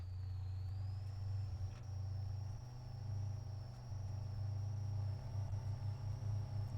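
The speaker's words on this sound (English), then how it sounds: "at least it's a good engine noise that they have in common" Dodge Ram pickup engine idling, a steady low rumbling drone with a faint high whine above it, even and continuous, with no talk.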